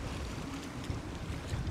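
Strong wind roars steadily across a sailboat on a sailing trip between Kökar, Helsö and Jurmo, with water noise mixed in and no voices.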